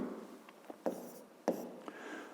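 Handwriting during a maths exercise, heard as a few faint, sparse strokes with short scratchy bursts spaced apart over a quiet background.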